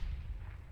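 A light cruiser's 6-inch guns fire in the naval game Ultimate Admiral Dreadnoughts, heard as a continuous low, rumbling boom of artillery, loud and without talk.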